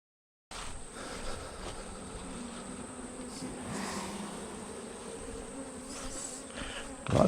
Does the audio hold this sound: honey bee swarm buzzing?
yes